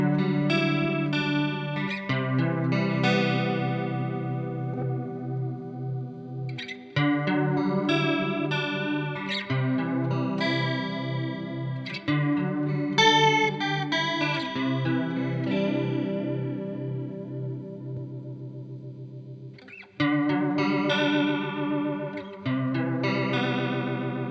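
Electric guitar runs through a Boss CE-2W chorus pedal in vibrato mode, with fast, deep pitch wobble across strummed chords and picked phrases, played alone at a steady level with brief pauses between passages.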